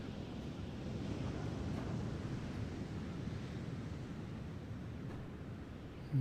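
Ocean waves wash steadily beside a lighthouse, a continuous, fairly loud rolling surf with wind blowing through it and no voices.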